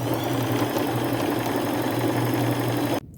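A sewing machine hums continuously as lace is stitched onto strips cut for jacket sleeves, a close, loud, even drone that cuts off abruptly near the end.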